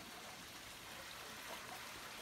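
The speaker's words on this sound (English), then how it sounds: "I've made it up to this little waterfall area." A small waterfall on Lynx Creek in Arizona gives a faint, steady rushing hiss of falling water, even and unbroken throughout.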